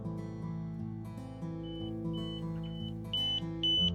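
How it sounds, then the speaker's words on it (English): Short high-pitched electronic beeps from TOZO NC20 Pro wireless earbuds in find mode repeat in bursts over a steady musical background, growing louder toward the end. "You can hear that beeping."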